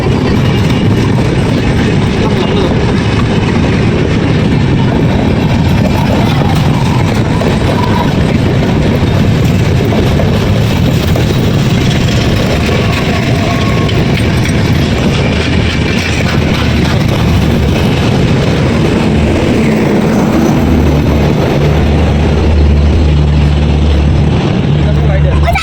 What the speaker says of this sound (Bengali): ট্রেন চলে গেছে।